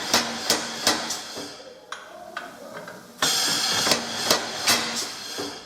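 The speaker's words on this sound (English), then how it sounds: "I'm going to demonstrate use of a handled chisel in reciprocation mode" A treadle hammer beats a handled chisel against metal on an Iron Kiss Octagon 150 in reciprocating mode, giving sharp, close metallic strikes in quick repeated bursts. A quieter gap falls between two busier runs of blows.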